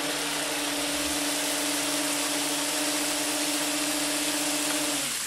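Electric motors of a Carplounge RT4 radio-controlled bait boat pushed to full forward thrust at about 25,000 rpm, a steady loud whine with even tonal hum that holds throughout, then drops away right at the end.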